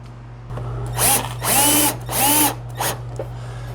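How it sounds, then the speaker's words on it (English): A power drill drives a screw through a cheap Amazon mud flap being cut down into a drift-style mudflap, whirring in three strong bursts with shorter blips around them over a steady low hum. "So now I'm going to put the screw in"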